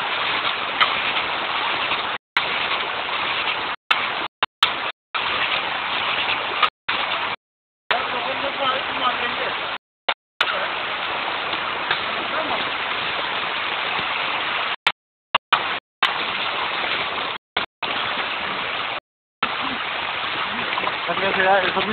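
A small stream of water flows steadily with a continuous splashing wash, close and fairly loud, repeatedly broken by short silent gaps.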